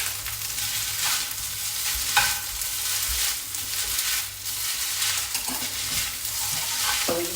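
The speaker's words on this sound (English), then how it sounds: "So we just like stirring it up a bit, you know, and making sure the heat's really good with it" Sticky Vietnamese rice noodles (hu tieu xao) stir-fried over high heat in a pan, a steady close hiss of frying broken by repeated scraping and clacking strokes of the utensil, with no voices.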